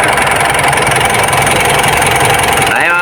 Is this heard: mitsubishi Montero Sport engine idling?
yes